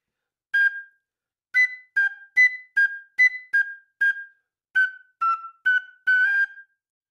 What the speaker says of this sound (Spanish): esta quena a mí también me permite hacer un sol limpio, sí, con todos los agujeros abiertos